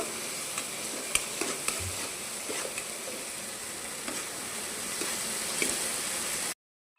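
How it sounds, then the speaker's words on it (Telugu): Ginger garlic paste sizzles steadily in a pan, with a few light clicks of stirring scattered through, then the sound cuts off abruptly. "అల్లం వెల్లుల్లి పేస్ట్ వేసుకుందామండి. పచ్చాసన పోయినంత వరకు వేపుకుందాము."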